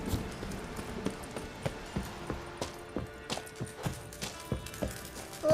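Steady clip-clop of horse hooves at a walking pace in the video game The Witcher 3, evenly spaced and moderately close, with a faint ambient background.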